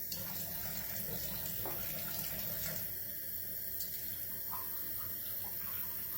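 A kitchen tap runs in a steady, soft stream for a few seconds, adding water to a hand-mixed sourdough bread dough, with no other sounds.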